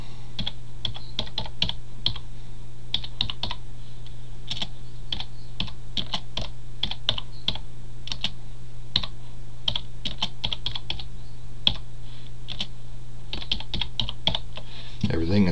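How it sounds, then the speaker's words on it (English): A computer keyboard is tapped one key at a time with a single finger, producing sparse, irregular clicks over a steady low hum, with a brief pause between runs of keystrokes. "I type with one finger too. So here, let's see, let me write here."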